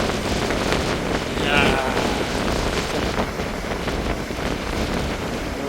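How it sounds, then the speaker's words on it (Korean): Strong wind buffets the microphone while high waves crash continuously at Aewol beach on Jeju, a loud, steady roar of surf with a brief exclamation from a person. "오늘 바람이 엄청 세가지고 이제 파도 높이도 어마어마합니다."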